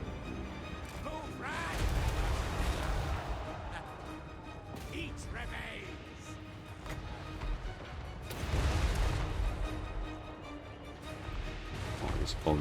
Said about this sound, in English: Cannons are very good, and cannons are in range now